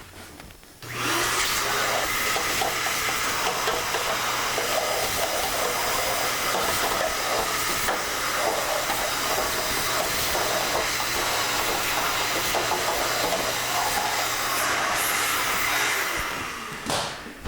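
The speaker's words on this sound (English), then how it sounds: "Now I'm going to take a shop vac and I'm going to clean inside the belly pan a little bit more thoroughly." A shop vac runs steadily inside the belly pan of a treadmill, a loud continuous whooshing roar with a low hum that starts abruptly, holds for about fifteen seconds and then cuts off.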